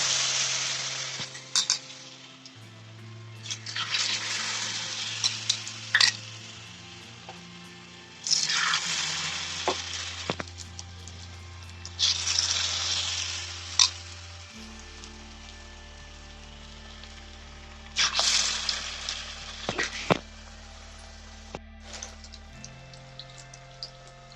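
Battered potato slices for pakora fritters are lowered into hot oil, setting off repeated bursts of bubbling sizzle that rise and fade in waves, with a steady hiss in between and occasional faint clinks, no talking.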